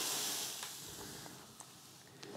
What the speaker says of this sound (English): I just run the wet paper towel over it and use that to produce more steam